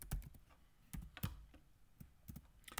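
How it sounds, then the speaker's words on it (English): Quiet, close clicks of keys on a computer keyboard as a web address is typed, coming in short uneven bursts with small pauses between them. "I am typing this URL in the description"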